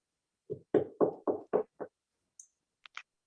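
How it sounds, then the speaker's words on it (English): Knocking on a door, a run of six quick raps close together followed by a couple of faint higher taps, heard alone in an otherwise quiet room. "you hear a knock on your door"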